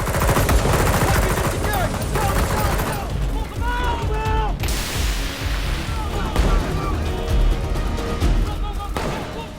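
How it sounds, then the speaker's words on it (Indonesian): Gunfire in a shootout scene from an Indonesian film about fighting corrupt officials, with steady volleys and machine-gun bursts under dramatic music and a narrator's voice throughout. "para pasukan khusus itu menyerang Wisnu hingga akhirnya aksi baku tembak pun terjadi"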